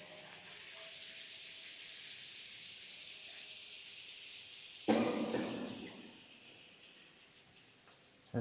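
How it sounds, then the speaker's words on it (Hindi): Palms rub together in a quiet yoga session, a steady soft hiss for several seconds. Near the end comes a louder, rougher burst of friction that fades out. "हाथों को रब करेंगे"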